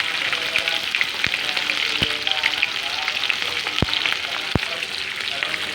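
Green chillies sizzle loudly in hot oil for sabudana khichdi, a dense continuous crackle with several sharp pops and clicks.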